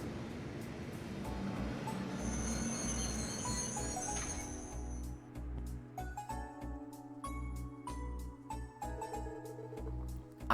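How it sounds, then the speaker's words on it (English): A passenger train in a Trails series video game pulls away from the station on a Crossbell-bound route. Steady low rumble and rhythmic rail clatter build gradually under faint ambient tones, with no voices. "Afterwards, Lloyd and the others waited for the Crossbell-bound train."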